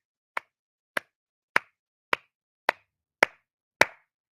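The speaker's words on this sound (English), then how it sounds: "Let's give her a slow clap." Seven separate hand claps spaced about half a second apart, evenly paced and deliberate, each a sharp isolated crack, the final one slightly louder, with no talking.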